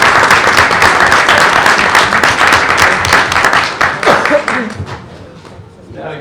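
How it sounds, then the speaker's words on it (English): A room of people at a school board meeting applauds students, dense clapping strong for about four seconds before thinning out to scattered claps, with voices murmuring beneath. "Let's give these students a round of applause."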